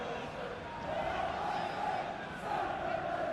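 Stadium crowd of fans in a football video game, a dense, sustained roar of chanting supporters at steady volume, with a commentator talking over it.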